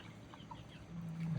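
Soft, low clucking from young gamecock chickens about a month old somewhere nearby, quiet and continuous.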